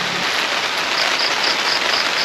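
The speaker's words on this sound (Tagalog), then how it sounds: "Non-stop pa rin yung ulan." Heavy, non-stop rain at a solo campsite, a dense steady hiss of drops drumming on surfaces, close and loud with no voices.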